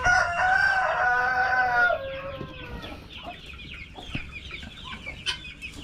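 Chickens clucking and a rooster crowing loudly up close for the first two seconds, then softer scattered clucks and farmyard bird calls continue on a Philippine farm that also keeps geese and turkeys.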